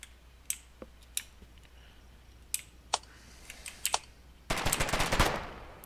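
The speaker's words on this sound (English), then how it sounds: "I can hear gunfire" Scattered distant gunshots crack sporadically in the video game Foxhole, then a loud burst of rapid automatic fire erupts near the end.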